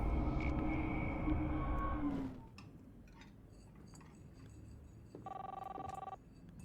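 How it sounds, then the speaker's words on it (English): Inside the video game Life Is Strange, a single telephone ring trills near the end, clear and steady after a loud, fading opening passage of game sound. "Can I unplug the phone?"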